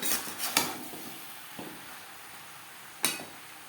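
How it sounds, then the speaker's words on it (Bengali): Eggplant and other vegetables for Bengali shukto are stirred in a pan over a high-to-medium gas flame, giving a few sharp spatula-on-pan clanks and scrapes with quiet gaps between them. "হাই টু মিডিয়াম ফ্লেমে তিন চার মিনিট সবজি নাড়াচাড়া করে নেব"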